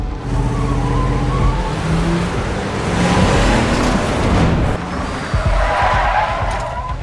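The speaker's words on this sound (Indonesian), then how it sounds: "kemudian meluncur menuju kediaman Garcia dengan sebuah mobil yang diambilnya dari seorang pengendara yang melintas." A car drives through a film scene, its engine rumbling and revving loudly with a passing swell in the middle, accompanied by tonal background music.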